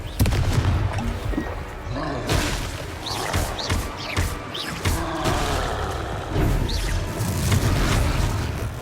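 Confringo fire spell blasts in the video game Hogwarts Legacy, a series of loud booming explosions and crackling bursts over a rumbling battle din with roar-like noise.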